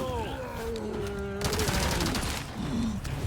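Rapid machine gun fire bursts in Resident Evil 4 Remake, sustained and loud through the middle of the stretch, mixed with game sound effects and a player talking excitedly over it.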